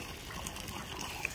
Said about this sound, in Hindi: ये पानी डाल रहे हैं